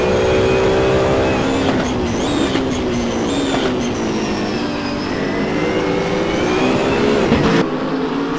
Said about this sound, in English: Now with Marcus Steyn in the number 46 Shadow Ghost Works car.